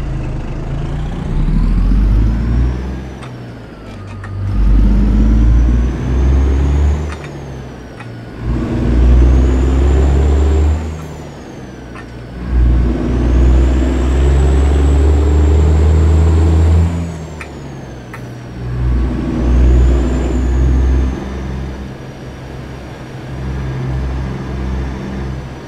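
DD60 engine of a Peterbilt 389 truck in American Truck Simulator, loud and close, rising and falling through repeated gear pulls, each climb ending with a brief dip before the next revving surge.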